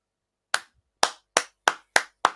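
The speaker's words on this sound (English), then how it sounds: "Kev, give him a round of applause." Six sharp, separate hand claps, each ringing briefly and then cutting off, coming at an uneven pace after a short silence, with no voices heard.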